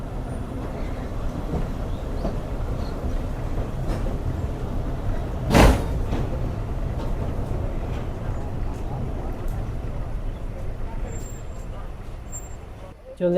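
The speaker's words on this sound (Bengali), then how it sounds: "আমাদের ট্রেন চলে আসলো নিজামপুর রেলওয়ে স্টেশনে" A Punorvoba local commuter train pulls into Nizampur railway station with a steady low rumble throughout and one brief loud burst midway, while voices murmur faintly beneath.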